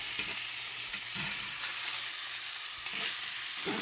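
Bone-in ribeye steaks sear fat side down in a hot pan, giving a loud, continuous hissing sizzle with a few brief clanks of utensils and no voices.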